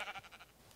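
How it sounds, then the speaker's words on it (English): Sheep in a modded Minecraft game bleat from the water near an ice floe: a short, faint burst of rapidly pulsing, wavering cries, with no talk over them. "there are two sheep swimming off of an ice floe"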